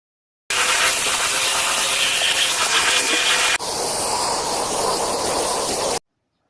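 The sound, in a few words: vacuum cleaner picking up debris from kitchen sofa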